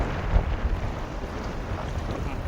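Strong wind buffets a fishing boat out at sea, a steady loud roar of gusts against the microphone with low rumbling water and hull noise, no talking.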